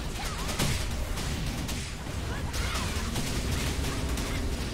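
Dense burst of game combat sound as a dark slash skill attack lands in Dragon Nest, a continuous loud wash of crashing hits and whooshing impacts with no clear pauses.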